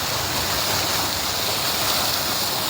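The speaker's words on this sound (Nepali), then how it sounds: "यहाँ चाहिँ पानीको फाउन्टेनहरू छ, पानीको फोराहरू फाउन्टेनहरू" Water fountains at the entrance of Central Zoo in Jawalakhel, Kathmandu, a steady splashing rush of falling water, close and even, with no talk.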